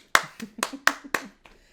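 Hands clap five times in a quick, slightly uneven rhythm, sharp and close, followed by a softer final tap.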